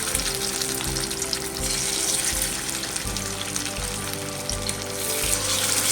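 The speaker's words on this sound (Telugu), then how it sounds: "ఇదండి ఆయిల్ వెటిక్కింది ఇప్పుడు ముక్కలు తీసుకున్నాం కదండి వేద్దాం" Bocha fish pieces dropped into hot oil to fry with masala, a close, bright continuous sizzle and bubbling with a low hum underneath, no speech.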